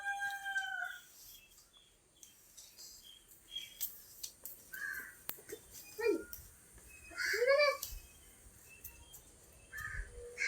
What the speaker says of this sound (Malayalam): നമ്മുടെ കോഴി